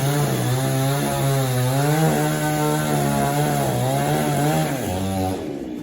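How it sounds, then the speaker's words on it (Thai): A loud chainsaw runs continuously, its engine pitch rising and falling as it cuts a branch from a tall tree, close and alone with no voices. "เริ่มใช้เลื่อยไฟฟ้านะคะ ตัดแล้ว"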